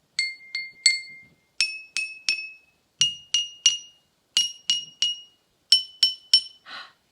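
Water glasses filled to different levels struck like a xylophone, ringing in short groups of clear bell-like clinks that step in pitch, each tone decaying quickly, close and without talk.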